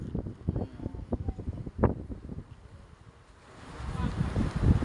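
Wind gusts buffet the microphone at a beach, a low rumbling roar with scattered thumps that fades in the middle and builds again toward the end.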